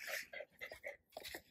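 Small dogs at a guesthouse in Transylvania, Romania, give a quick run of soft, high whimpers and yips, about five short cries close by, with brief pauses between them and no talking.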